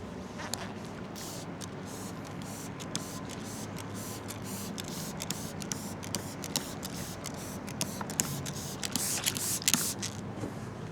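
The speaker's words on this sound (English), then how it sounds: "now we're going to take our quick detailer, we're going to spray it on the surface as well" Quick detailer is sprayed in a series of short, sharp hissing bursts onto an aircraft's surface outdoors on a ramp, the spritzes spaced irregularly and growing busier toward the end, close and moderately loud with no talking.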